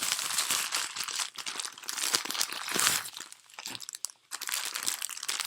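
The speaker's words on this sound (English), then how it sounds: "We are unboxing today's package." Crinkling and crunching of plastic packaging as an eBay package holding a wig is opened, with steady rustling bursts close to the microphone and no talk.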